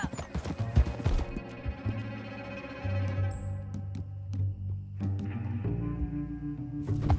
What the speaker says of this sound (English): Back on your horse.